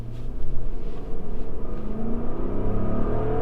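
A 5.7-liter V8 in a third-generation Lexus LX 570 SUV accelerates with a deep, steady engine rumble heard from inside the cabin, the pitch climbing smoothly through the gears.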